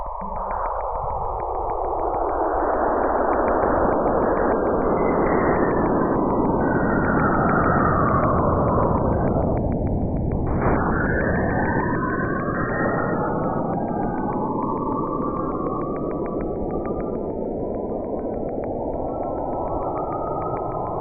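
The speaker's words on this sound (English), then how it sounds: "the sounds are plasma waves coming from the gas giant to its satellite Enceladus, converted into sounds accessible to the human ear" Plasma waves from Saturn to its moon Enceladus, turned into audible sound, come through as a continuous eerie whistling hum with rising and falling swooping tones and a dense buzzing texture, steady and loud with no voices.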